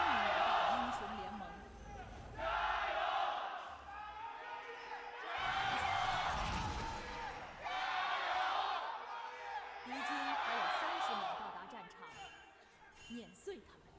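A packed esports arena crowd at the LPL Spring Playoffs cheers and whoops in repeated loud surges between games, while a commentator talks over the roar.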